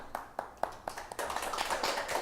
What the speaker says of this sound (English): Let's do a little round of applause.